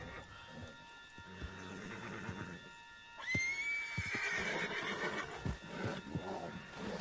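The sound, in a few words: horse neighing, from the video game Red Dead Redemption 2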